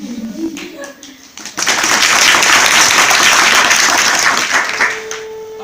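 An audience claps during a Hindi children's storytelling session about a little bird, a burst of loud, dense applause rising after a brief moment of voices and continuing for several seconds before tapering off.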